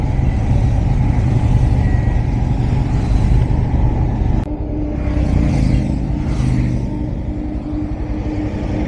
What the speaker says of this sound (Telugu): ఇప్పుడు షామీర్ వెనకాల మొత్తం బైక్స్ ఎట్లా కనిపిస్తున్నాయి చూడండి